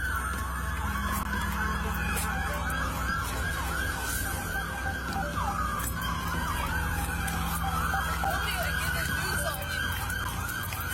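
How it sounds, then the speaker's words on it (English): Several emergency vehicle sirens wail at once, overlapping rising and falling tones held steady and fairly loud throughout, with faint voices in the background. "You hear all the lights and sirens?"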